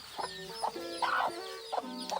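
A hen clucks in short repeated bursts while roaming with a brood of about fifty young ducklings, close by and clear, with no talk over it.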